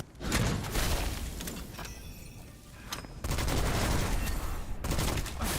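Rapid bursts of gunfire aimed at the Gatekeeper in the roguelite shooter Witchfire, loud and dense, easing briefly midway before resuming at full intensity.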